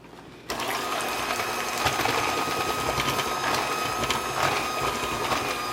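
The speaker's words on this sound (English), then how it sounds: "So now I'm going to go ahead and blend all this together" A mixer blends muffin batter of eggs and sour cream, starting abruptly after a brief quiet moment and then running as a continuous rattling, whirring drone with occasional clatter against the bowl.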